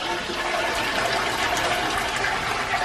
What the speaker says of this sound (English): So when you flush,